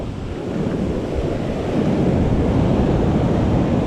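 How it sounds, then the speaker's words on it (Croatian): Ocean waves break on a beach in Nha Trang, Vietnam, making a steady, loud, rushing roar that swells slightly over time, with some wind buffeting the microphone and no voices. "Gledajte to koji su to valovi."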